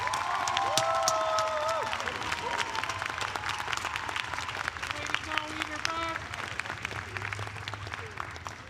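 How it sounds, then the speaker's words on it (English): An audience applauds high school graduates at a graduation ceremony: sustained clapping with cheering and shouts, while whistles or voices rise over the crowd. "please give these graduates a huge round of applause"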